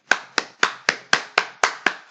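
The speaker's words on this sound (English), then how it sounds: "clap it up" Nine sharp hand claps in a steady, even rhythm, close and loud, with no voices.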